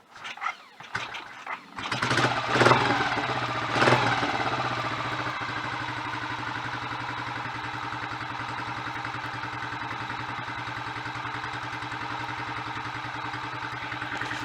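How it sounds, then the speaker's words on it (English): A Royal Enfield 500 motorcycle engine cranks and catches with a few revving bursts, then settles into a steady, close idle that runs on evenly. "get it ticking over, and then we can have a walk around and a close-up look and listen to the engine"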